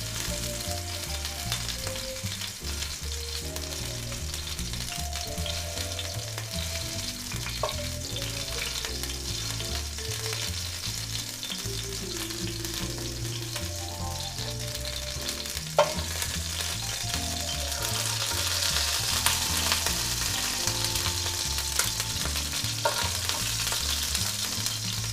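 Meat for a bolognese frying in spattering hot oil, a dense continuous sizzle and crackle that swells louder toward the end, with a single sharp pop midway and no talking.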